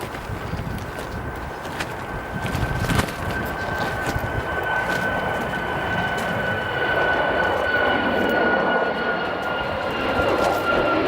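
An airliner roars at O'Hare Airport, a broad, loud jet rumble that holds steady and builds slightly over about eleven seconds, with a thin whine riding above it and no one talking.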